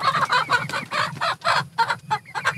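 Free-range chickens roosting at night on a farm give dense, close clucking and murmuring calls that overlap in quick irregular bursts.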